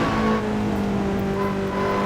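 Lotus Exige 240R at racing speed on the Nordschleife, a steady loud engine drone with strong tonal harmonics holding for about two seconds, continuous and close with no pauses or talk.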